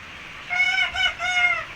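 Farm chickens feeding on black soldier fly larvae give a few short, close, bright clucking calls in quick succession over a quiet background.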